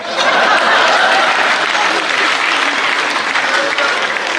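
Loud, steady applause with scattered chuckles from the audience at a Hindi comedy poetry show, a continuous dense clapping that holds for several seconds.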